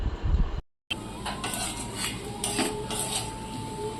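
After a brief dropout, a utensil scrapes and clinks against a pan while turmeric and red chili powder are worked into potatoes, a close, uneven run of metallic stirring strokes with only faint sizzle.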